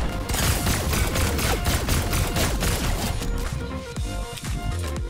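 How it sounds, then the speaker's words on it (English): A plasma cannon fires in Fortnite, a dense, loud barrage of booming blasts and crashing impacts that rolls continuously through the game's chaotic soundscape. "Yo, plasma cannon."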